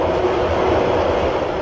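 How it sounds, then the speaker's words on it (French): Rubber-tyred Paris metro train on the Châtelet–Mairie-des-Lilas line, a steady loud rolling rumble and hiss heard from inside a carriage, continuous with no talk. "les nouvelles rames du métro sur pneus qui desserrent la ligne Châtelet-Mairie-des-Lilas"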